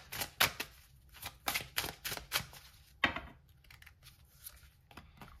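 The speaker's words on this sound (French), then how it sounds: "On va prendre 3 cartes comme ça." Tarot cards shuffled and drawn for a reading, close and crisp: rapid rhythmic riffling bursts, then sporadic slaps and flicks as cards are pulled and laid down, with no talking.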